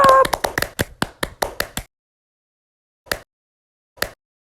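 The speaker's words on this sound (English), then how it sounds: "Can we get a round of applause for this man?" A few people clap in quick, sharp strokes for about two seconds, close and dry, then a silence broken by two lone late claps.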